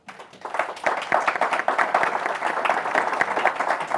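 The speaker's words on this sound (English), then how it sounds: "How about a round of applause for them?" Audience at a conference on clean steel and lead standards applauding panelists, dense sustained clapping from a modest crowd rising quickly and holding steady for several seconds.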